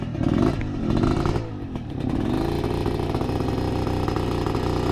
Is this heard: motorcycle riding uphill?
yes